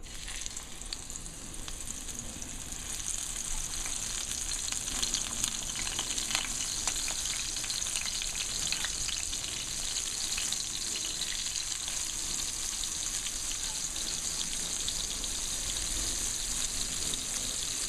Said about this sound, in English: So the oil is nice and hot, and I'll be throwing in the fish.